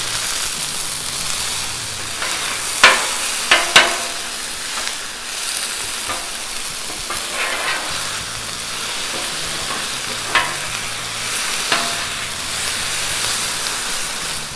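Steak sizzles and fries steadily in a hot pan, a dense continuous crackle with a few sharp clatters and pops as pieces are stirred and flipped, no voices present.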